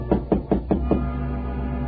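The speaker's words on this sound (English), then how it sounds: "I heard a tap on my door." Five quick knocks on a door in a radio drama, a near, even-paced rapping that stops, followed by a quiet hum.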